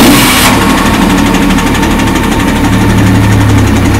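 A Soviet T-60 light tank engine starts with a brief burst, then settles into a loud, steady, close idle with a constant low throbbing drone.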